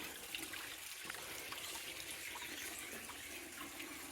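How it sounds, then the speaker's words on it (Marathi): Water pours without pause from a village cow-mouth spring spout, a steady splashing, trickling stream heard alone at low level, with no one speaking. "गायमुखाचं पाणी बघा संतधार बारा महिने चालू आहे"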